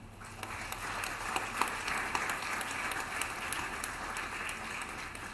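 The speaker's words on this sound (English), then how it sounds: "And everybody deserves a round of applause." After a moot court competition final, a hall audience applauds steadily, the dense, even clapping sounding somewhat distant and soft for several seconds.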